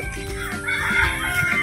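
Native chickens clucking and crowing close by, a rooster's call rising over repeated hen clucks in a short, busy farmyard burst with no talk.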